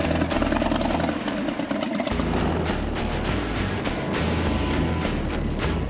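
Custom all-alloy motorcycle built for a biker build-off contest, its engine running loud and close with a deep, throaty steady rumble, briefly dropping off before picking back up.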